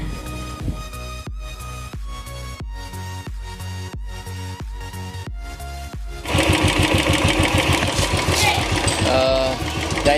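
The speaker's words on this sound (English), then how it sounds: "it's time to start the vehicle, heat the engine, and then drain the excess oil" A Royal Enfield Classic 350 motorcycle engine idles steadily with a regular thumping beat while warming up, then grows louder and busier partway through as revs rise, close to the listener.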